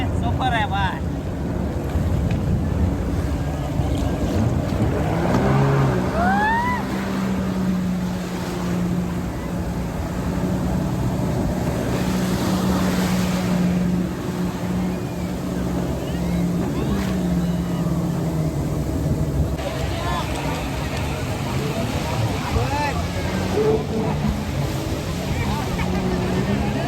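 A motorboat carries passengers out to sea off Shivrajpur beach in Gujarat, its engine droning steadily under buffeting wind and splashing waves, with voices talking and calling out over the noise.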